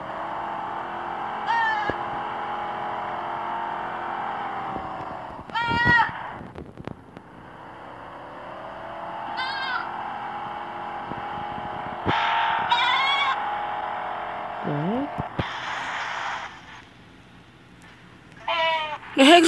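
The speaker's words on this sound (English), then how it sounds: "Told you there's goat sounds here." A goat bleats several times at irregular intervals, fairly close, over a steady background hum, with occasional quiet voices.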